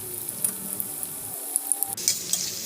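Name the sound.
tofu vegetable pastel pastries frying in oil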